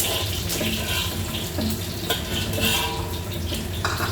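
Garlic sizzles in a few tablespoons of hot oil for yam rice, a dense, steady crackling hiss that carries on unbroken and close with no voices.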